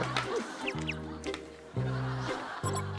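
Chicken clucks and squawks come in short repeated bursts at close range, fairly quiet, with brief bits of background noise between the calls.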